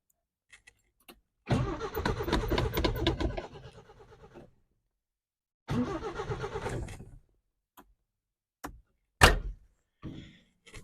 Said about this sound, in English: So I'm betting this thing's going to fire up.